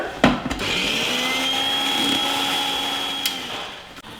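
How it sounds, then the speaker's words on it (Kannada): A mixer grinder whirs steadily while grinding garlic, rock salt and chili powder, loud and close, with a few knocks as the jar settles at the start and end, and no speech. "ಈಗ ಇದನ್ನ ಗ್ರೈಂಡ್ ಮಾಡ್ಕೊಂಡ್ಬಿಡೋಣ"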